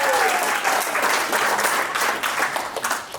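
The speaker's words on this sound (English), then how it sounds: "give a big round of applause to John" An audience at a magic show applauds steadily and loudly for a volunteer, a dense wash of hand claps filling the whole moment without a break.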